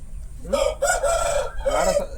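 A young rooster with fresh new feathers, offered for sale, crows once loudly and close by in a long drawn-out call that fills most of the moment, with no talk over it.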